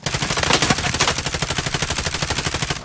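Rapid automatic gunfire in a military shooter video game, a loud, steady burst of fast repeated shots lasting about three seconds.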